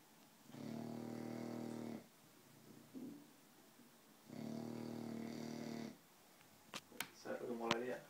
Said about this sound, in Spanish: Sigue roncando. Ni se inmuta.